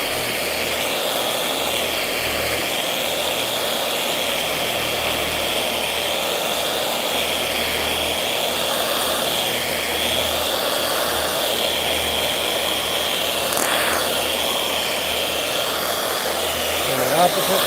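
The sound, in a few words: polisher buffing a square body truck hood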